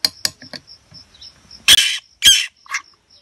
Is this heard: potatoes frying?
no